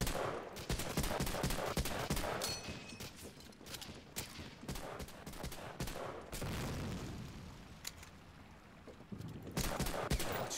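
Sustained World War II-era gunfire from the Medal of Honor Allied Assault video game, with dense automatic bursts and overlapping shots that stay loud throughout, easing briefly before firing picks up again at the end.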